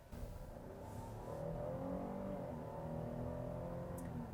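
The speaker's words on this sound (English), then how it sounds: "Now, in just normal acceleration, the V6 makes a good noise" A 2020 GMC Acadia AT4 with a V6 engine and 9-speed gearbox accelerates normally, its engine a low, steady hum that slowly climbs in pitch, heard faintly as if from inside the cabin.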